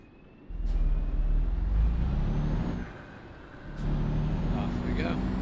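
A mail delivery truck uncouples its trailer: a loud, close diesel rumble with hissing air brakes and short high beeps, the engine surging and dropping, as someone talks over it.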